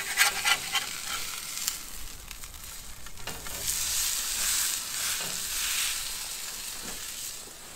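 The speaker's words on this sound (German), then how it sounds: "Jetzt wird es schon mal scharf angegrillt" Beef searing on a hot grill gives off a steady, moderately loud sizzle and hiss that keeps going throughout, with a few brief clatters near the start.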